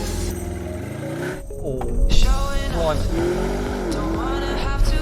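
Audi RSQ8 SUV launching hard from a standstill under launch control, its engine revving up through rising gear pulls with a loud roar and brief tire noise, a voice briefly exclaiming over it.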